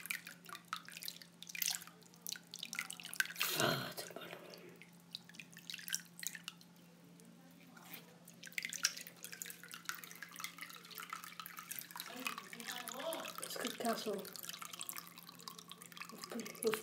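Tap water runs steadily into a red water balloon, a continuous hissing, dripping stream that swells briefly partway through, with a voice speaking over it at times.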